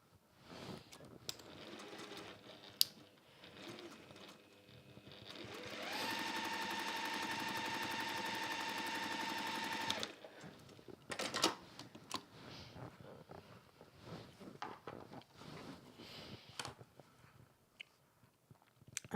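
Sewing machine stitching scrappy log cabin quilt pieces, a steady fast mechanical whirr lasting about four seconds, framed by handling clatter and soft rustling before and after.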